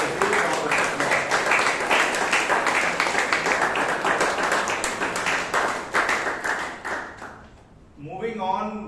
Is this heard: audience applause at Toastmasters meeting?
yes